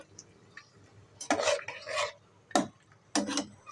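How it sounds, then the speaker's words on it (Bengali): Chicken pieces are stirred and sautéed in a pan, the spatula scraping and rasping in short, uneven bursts with quiet pauses between strokes. "চিকেন আমি সুন্দর করে কষিয়ে নিচ্ছি একটু কষানো চলছে"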